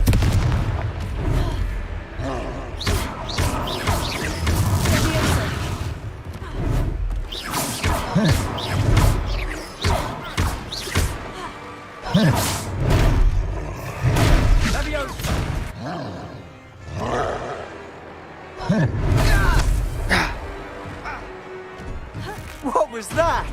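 Confringo spell blasts in the video game Hogwarts Legacy, heard as repeated loud booming explosions and crashing impacts in irregular bursts amid busy battle effects, with voices talking over the action.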